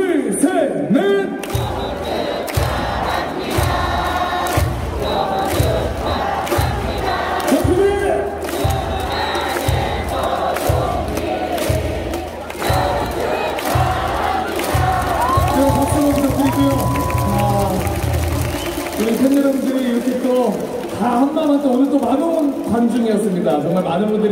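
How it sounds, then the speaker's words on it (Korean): A large stadium crowd at a KBO baseball game between SSG and KIA sings a wedding congratulations song together for a player, loud and sustained with rhythmic clapping and cheering throughout. "결혼 축하 다 같이 기념으로 불러주시면 좋을 것 같은데 괜찮으신가요?"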